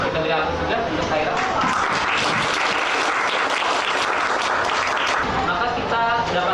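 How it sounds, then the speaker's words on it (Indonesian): Classroom applause for a student named Khaira, with many hands clapping steadily and close throughout, thick and continuous, with voices mixed in underneath. "Oke, kita beri aplaus juga untuk Khaira."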